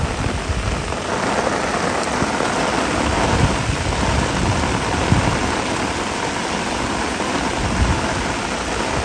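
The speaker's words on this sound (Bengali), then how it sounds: "এই যে বৃষ্টি," Rain pouring steadily outdoors during fishing, a dense, continuous hiss of drops on surfaces with low rumbling underneath, fairly loud and unbroken.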